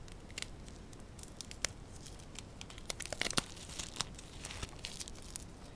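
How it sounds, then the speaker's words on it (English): Lego Ninjago card packets being torn open, close crinkling and ripping of foil wrappers in irregular bursts of sharp crackles, fairly faint overall. "I shall open the cards now."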